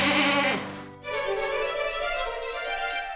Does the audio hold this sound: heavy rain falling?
no